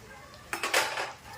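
A spoon clinks and scrapes against a pan while mixing chickpea usal with tomato, coriander and salt, a brief cluster of metallic stirring strokes up close over a quiet background.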